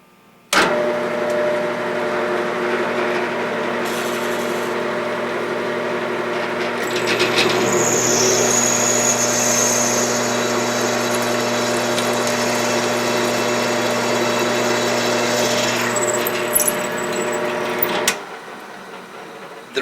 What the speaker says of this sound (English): Cutting, drilling, and milling of steel, chrome nickel alloys, and as you will see here, stainless steel, generates a tremendous amount of heat.